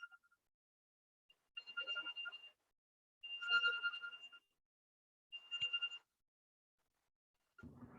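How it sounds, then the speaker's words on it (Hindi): A mobile phone ringtone plays in bursts of electronic tones during an online class, repeating three times with short gaps between them, clear against an otherwise quiet background. "वो मोबाइल फोन की आवाज है।"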